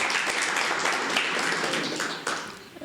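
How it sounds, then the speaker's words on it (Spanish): A church congregation claps during a Sunday service, a dense, steady patter of many hands close by, continuing evenly with no talk over it. "si denle un aplauso al Señor, que Él es bueno."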